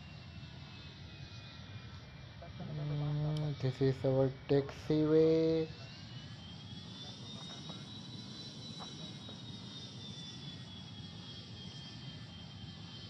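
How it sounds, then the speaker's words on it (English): An airliner's jet engine runs steadily in Airline Commander during taxi, a constant whine and rumble throughout with a brief stretch of talk early on. "Here the engine starts."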